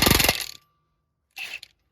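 A power tool works a brake bracket bolt on a 2019 Ford Fusion Hybrid, hammering in a loud rapid burst, then falling silent before a second shorter buzzing rattle.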